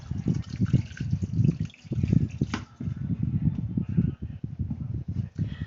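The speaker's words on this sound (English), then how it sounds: "I'm just going to rinse my hands a bit" Water runs from a tap while hands are rinsed, giving a close, pulsing splash and trickle that comes in uneven bursts with brief pauses, heard alone without talk.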